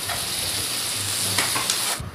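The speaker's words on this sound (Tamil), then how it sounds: "Onion-a nalla vadakkidunga." Onions and tomatoes sautéing in a pan for pepper chicken curry, giving a constant close sizzle with occasional stirring clicks before it cuts off abruptly, no voices.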